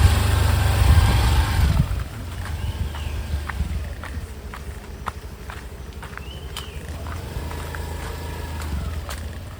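A motorbike creeps slowly along a rough, rocky off-road track near Ranpat village, its engine rumbling loud and low at first, then settling into a quieter steady putter with scattered crunches from the stony ground.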